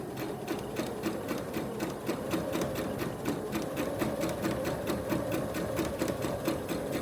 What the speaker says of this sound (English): we're going to just stitch along the edge to join the front to the back, using that 1/4 inch seam allowance again